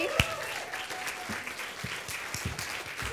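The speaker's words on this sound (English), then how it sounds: "Look, they're clapping for you already." Scattered applause from a seated audience at an entrepreneurs' talk, a loose patter of claps that stays steady and fairly faint throughout.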